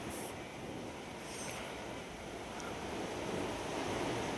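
Strong wind roars steadily and continuously, a dense rushing noise with no voices, like a storm blowing hard outdoors.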